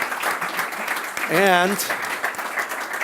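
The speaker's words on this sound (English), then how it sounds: "Big applause for Sunil." An audience at a Startup Grind Andorra event claps for speaker Sunil Bhardwaj, with continuous, moderately loud clapping throughout, while a voice briefly talks over it in the middle.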